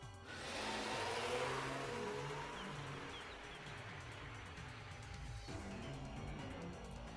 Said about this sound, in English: The car speeds off like a bullet.